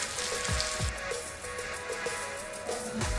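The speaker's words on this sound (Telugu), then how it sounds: "మనం వేయించుకున్న రొయ్యలు దాంట్లో వేసుకోవాలి" Prawns already fried go into a hot pan of frying prawns and ladyfinger, giving a steady close sizzle with soft intermittent popping and crackle throughout.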